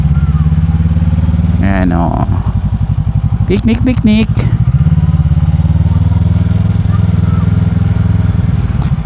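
Motorcycle engines idle and putter at a busy hangout spot at Crocodile Park in Davao City, a steady low rumble running throughout with a brief revving burst midway, while someone talks over it.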